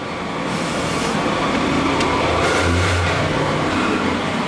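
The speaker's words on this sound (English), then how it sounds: "Noisy truck." A noisy truck engine roars steadily close by on Bowen Road, Hong Kong, in 1991, a loud broadband rumble that swells slightly as it passes, with no talking.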